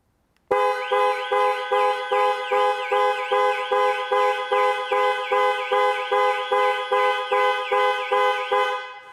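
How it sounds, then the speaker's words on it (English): A Jaguar I-Pace electric car's panic alarm sounds its horn in a loud, rapid, evenly pulsed series of honks with a wavering two-tone pitch, starting abruptly after a brief silence and repeating steadily to the end. "Press for 3 seconds or press 3 times in 3 seconds and the horn will sound and the hazard lights will flash."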